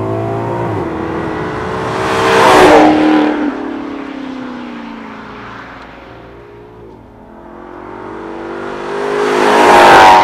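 A 2013 Maserati GranCabrio MC Stradale engine roars loudly as the car passes close by twice, with revs rising and falling between the two pass-bys.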